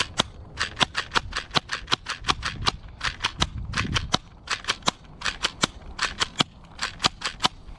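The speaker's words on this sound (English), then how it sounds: "Now let's fire some rounds downrange." A Nerf Pro Gelfire Legion gel blaster fires rounds downrange outdoors in cold weather, sharp snapping shots in quick bursts of three to five, repeated steadily with short pauses between groups.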